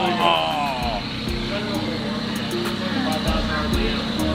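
A McLaren 12C GT3 race car with a full carbon widebody revs its engine to about 5,000 RPM, a loud, steady roaring drone that holds throughout with a slight swell near the start.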